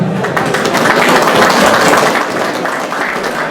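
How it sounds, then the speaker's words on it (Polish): Loud applause from attendees at a racing pigeon show award ceremony, a dense, continuous clatter of many hands filling the room, steady and close for several seconds. "gratulacje, brawa prosimy."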